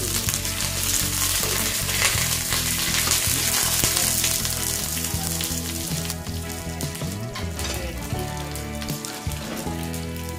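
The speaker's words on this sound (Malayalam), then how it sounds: "ഉള്ളി മൊരിഞ്ഞ് വന്നാൽ കറിവേപ്പില കൂടി ചേർത്ത് കൊടുക്കാം." Shallots and curry leaves crackle and sizzle steadily in hot coconut oil, a dense, close frying hiss that runs the whole way through with a tonal musical bed underneath.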